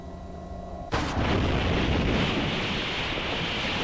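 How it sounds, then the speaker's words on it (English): A battle artillery blast from the video game Planetarian lands as a sudden loud boom over a quiet rumbling hum, then fades into a sustained roaring rush like wind or surf. "A delayed blast shockwave scattered raindrops everywhere"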